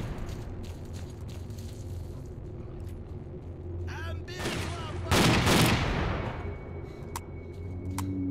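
A grenade blast and gunfire in the S.T.A.L.K.E.R. Clear Sky shooter game: a heavy, loud burst of explosion noise over steady background gunfire and game ambience, with scattered sharp cracks afterward.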